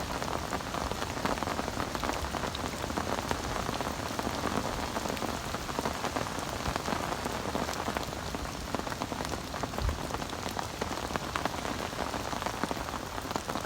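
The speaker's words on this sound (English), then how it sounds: "Only thing I have to persevere with is this rain, but due to stop in an hour." Steady rain patters down on the River Wye in flood, a continuous even hiss of drops landing on water and nearby surfaces, close and unbroken, with no voices.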